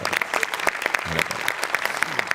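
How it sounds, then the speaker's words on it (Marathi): A studio audience at a Marathi comedy show claps loudly and steadily for the writer of a skit, dense applause filling the room with a little voice mixed in. "याच्यात तुझ्या लेखकासाठी जोरदार टाळ्या एकदा."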